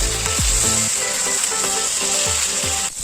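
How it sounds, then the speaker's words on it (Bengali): Pieces frying in a pan until both sides turn lightly browned: a dense, constant sizzle with faint scrapes and knocks beneath it, close up and without speech. "খুব বেশি কড়া করে ভাজবো না, এপিট ওপিট লাল করে ভেজে নেব।"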